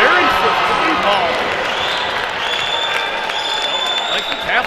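A boys' high school basketball crowd in a gym cheers after a three-pointer, a broad sustained roar with shouts and ball bounces, under a commentator's voice.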